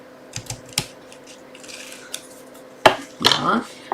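Paper being cut for a Stampin' Up card, a few light snips and clicks at first, then a louder crisp crunch and a short slicing rasp near the end, heard close and without talk.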